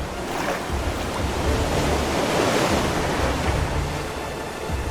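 Ocean water laps at a shoreline in the video game Minecraft, a steady rushing wash of surf with wind-like noise, fairly loud and continuous with no voices.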